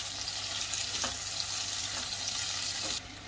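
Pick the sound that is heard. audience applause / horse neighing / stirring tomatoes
stirring tomatoes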